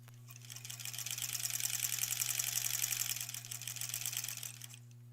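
A sewing machine stitches quilt blocks together in one smooth burst of rapid needle clatter lasting about four seconds, close and moderately quiet over a low steady hum, with no speech.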